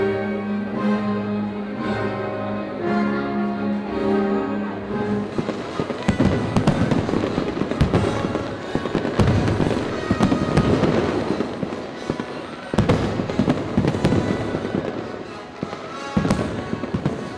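Fireworks burst at Birmingham Artsfest, an outdoor arts festival: after a calm stretch of tonal sound, dense loud crackles and bangs fire in quick succession.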